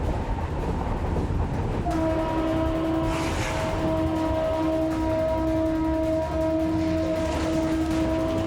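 A train approaches along a track in Tezpur, Assam, with a steady rumble and a sustained two-tone horn blaring loud and near from about two seconds onward, holding for several seconds over rolling wheel noise.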